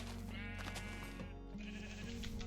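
Sheep in the video game Minecraft bleat in long wavering cries, several overlapping calls close and loud throughout.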